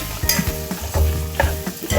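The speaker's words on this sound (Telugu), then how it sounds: "మళ్ళీ 2 నిమిషాలు ఇలా కలిపేసుకున్నామండి, వేపించుకుందాం." Greens with beans fry in a pan, a steady sizzle broken by repeated scraping stirs of a spoon against the metal every half second or so, close and clear with no talk.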